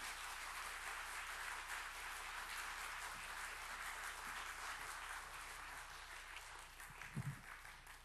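An audience at an evening spring revival meeting applauds as the lecturer comes out, a sustained, even wash of many hands clapping at moderate distance.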